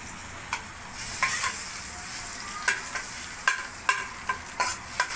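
Amul butter sizzles in a kadhai used for paneer masala, a steady close hiss broken by sharp scraping stirs every second or so, with no voices.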